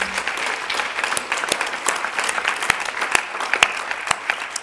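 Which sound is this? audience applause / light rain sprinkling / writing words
audience applause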